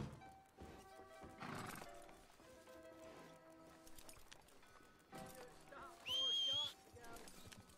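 In Red Dead, a horse whinnies in a sharp, rising neigh near the end, preceded by hoof clip-clops and game music, with someone talking over parts of it.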